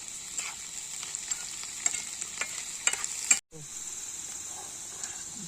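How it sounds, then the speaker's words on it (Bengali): Onions with salt sizzle steadily in a pan at a riverside campsite, a constant bright hiss broken by light stirring scrapes and a brief drop in sound just past the midpoint. "প্রথমে আমরা পেঁয়াজ দিয়ে দিলাম, তার সঙ্গে একটু লবণ দিয়ে দিলাম। এরপরে এটাকে একটু ভেজে নেবো ভালো করে।"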